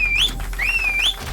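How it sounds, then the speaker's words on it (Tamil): Someone learning to whistle produces two rising, wavering whistled notes, clear and close, with a brief dip between them and faint room noise underneath. "சூப்பரா விசில் அடிக்கிறீங்க"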